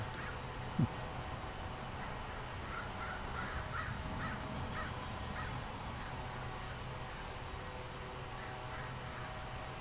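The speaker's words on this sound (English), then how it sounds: "Crows," Crows caw over and over in the distance on a Sunday morning, forming a rhythmic, faint series of calls over a steady outdoor hiss, with a brief click near the start.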